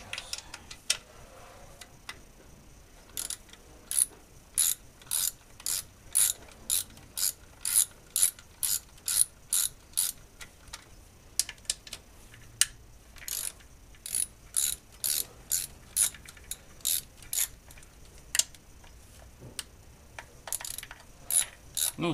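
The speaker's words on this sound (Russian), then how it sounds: "откручиваем эти все болты, крепящие крышку здесь и там" Ratchet loosening valve cover bolts on a Mercedes W211 engine, a close, crisp clicking in rapid bursts repeated steadily, with short pauses between strokes and no talking.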